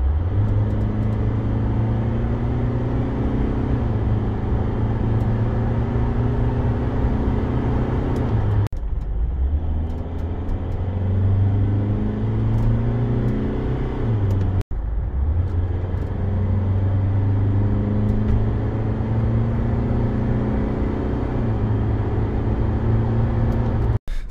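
A VW Grand California 600 camper van with a 2.0 TDI diesel and eight-speed dual-clutch DSG gearbox accelerates, its engine drone rising steadily, dipping briefly at quick gear changes, then climbing again, heard loud from inside.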